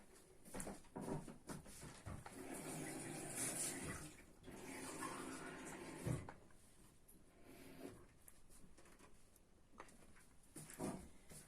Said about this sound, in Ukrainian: Набираю водички, наливаю, щоб закрило рибку.